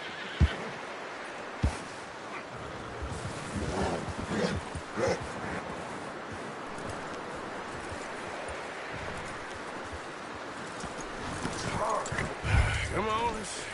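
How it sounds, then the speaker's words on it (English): A horse in a video game, with scattered hoof clip-clops, a whinny and rustling amid outdoor ambience, under intermittent talk. "You should really tether that horse"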